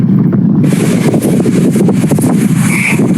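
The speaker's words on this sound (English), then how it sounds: "Windy." Strong wind blows outdoors beside St. Catherine's Library, buffeting the microphone in a loud, continuous low rumble with gusty surges throughout, and no talking.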